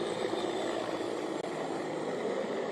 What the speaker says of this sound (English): right now you can hear Israeli military helicopters flying just a couple hundred feet off the ground